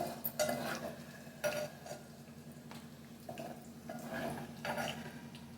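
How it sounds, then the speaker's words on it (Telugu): Tomatoes and green chillies softening in oil for a roti chutney give a low, steady sizzle, with scattered stirring scrapes and utensil knocks on top. "కొంచెం సేపు ఒక 2 నిమిషాలు నూనెలో మగ్గాలి."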